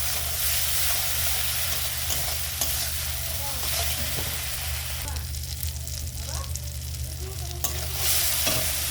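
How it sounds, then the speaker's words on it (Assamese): Poppy seeds, cumin and peanuts dry-frying and being stirred in a pan, giving a steady close sizzle with scraping stir strokes throughout and no talk. "এতিয়া মই পোস্ত, জিৰা আৰু বাদামখিনি ভালকৈ ভাজি ল'ম"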